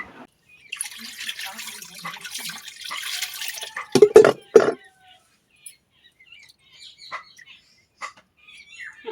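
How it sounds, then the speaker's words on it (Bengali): Pieces of market-cut fish, still bearing scales, are rinsed under running water for a simple fish curry, a steady splashing wash followed by a few louder wet sloshes and faint drips, with no talk. "মাছগুলো এখন ধুয়ে নেবো পরিষ্কার করে।"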